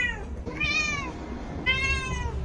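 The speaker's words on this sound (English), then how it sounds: "This is my cat trying to convince me to play with him." A cat meows twice up close, each a drawn-out, insistent cry, over a steady background hum, with no talking.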